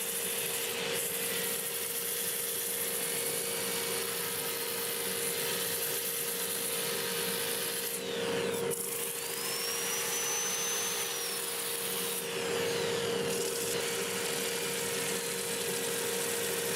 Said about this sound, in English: I'm going to use my drill with the pad in there, 80 grit, lathe running in reverse